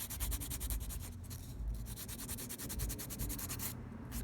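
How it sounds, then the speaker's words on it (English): Steady, close rubbing strokes from filing DIY acrylic nails, a fast repeated scraping rhythm running continuously with no talk. "The next thing is the filing, and it shouldn't be much."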